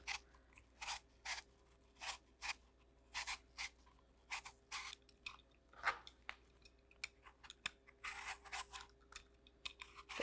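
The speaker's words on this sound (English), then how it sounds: "We're just gonna cut our apple into cubes and then simmer it." A knife slicing a Granny Smith apple into cubes on a board gives a steady run of crisp, close cutting chops, soft and evenly spaced, alone with no voices.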